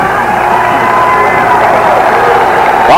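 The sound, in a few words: basketball arena crowd cheering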